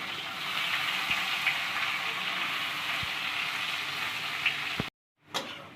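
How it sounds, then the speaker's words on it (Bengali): Onions sizzle and fry steadily in hot oil previously used for frying fish, turning reddish, a close, continuous crackling hiss with a few soft knocks, cutting off abruptly near the end. "পেঁয়াজ ভাজা লাল লাল হয়ে গেছে"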